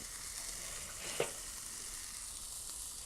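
Bacon-wrapped beer can burgers sizzle on a grill, a soft, steady fry hiss with a single brief clunk as one is shifted.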